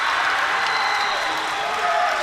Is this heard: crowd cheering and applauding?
yes